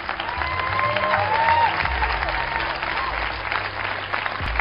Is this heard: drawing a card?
no